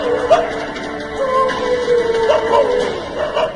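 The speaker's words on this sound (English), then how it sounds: "They could hear dogs barking, but they could not find a single dog in the vicinity." Dogs barking and yipping somewhere distant during a paranormal investigation of a haunted bus site, thin repeated calls over steady background noise with no talk.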